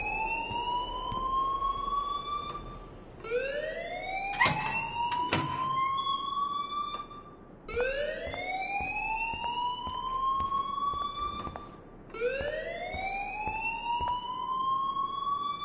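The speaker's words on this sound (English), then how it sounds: "please turn off that alarm since that's your job" A video game alarm wails in repeated rising sweeps, each lasting a few seconds, loud and steady, with a couple of brief sharp clicks in between.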